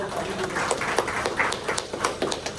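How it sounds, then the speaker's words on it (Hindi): Scattered clapping from a small crowd, a steady patter of hands with sharp individual claps standing out. "एक बार तालियां होनी चाहिए डॉक्टर को"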